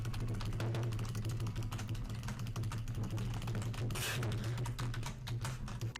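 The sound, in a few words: typing text on a computer keyboard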